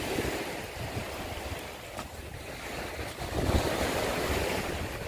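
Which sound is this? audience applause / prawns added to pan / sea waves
sea waves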